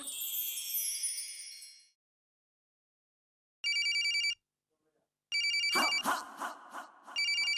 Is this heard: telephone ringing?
yes